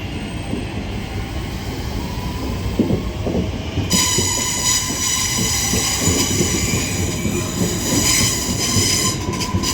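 A Northern Class 323 electric unit pulls out of Deansgate station on a service to Blackpool North. A steady rolling rumble comes first, then a rising electric whine builds as the train accelerates. No one speaks.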